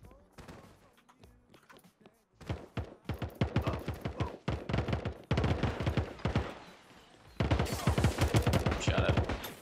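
Bursts of gunfire ring out during a match of the video game Radical Heights, with rapid repeated shots in clustered volleys, some loud and close, over several seconds.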